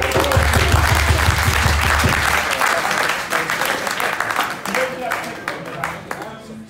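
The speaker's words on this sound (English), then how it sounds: "Can we give Nathaniel a round of applause?" Audience applause for Nathaniel at a mental health and suicide performance project event: loud, dense clapping fills the room, strongest at first and then thinning slightly, with voices mixed in.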